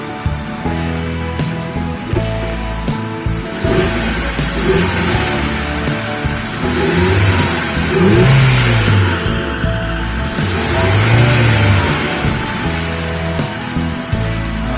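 A car engine revving after its throttle body was cleaned, running loud and close with a steady idle drone that rises into two smooth revs and settles back, no talking.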